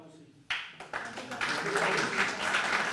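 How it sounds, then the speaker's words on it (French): A crowd at an auto-cross motorsport meeting in Badefols-d'Ans breaks into applause, the clapping starting suddenly and building into a dense, sustained patter, with voices mixed in. "donc on peut l'applaudir"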